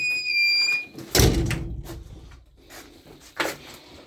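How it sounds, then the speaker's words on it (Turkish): A door in a village home is pulled shut with one solid thud, followed by a faint rattle and a softer knock a moment later, close by, after a brief high ringing tone. "Kapıyı çekelim."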